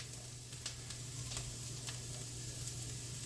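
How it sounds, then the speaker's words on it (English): Food sizzles in a frying pan with garlic while being stirred, a steady bright crackle running throughout with a few sharper scrapes of the utensil, close and moderately quiet. "Just giving that a little stir."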